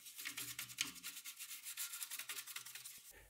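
Close, repetitive scrubbing of an Atari 65XE computer's plastic case with acid to remove rust and grime, quick rough strokes in an even back-and-forth rhythm, faint and steady without talk.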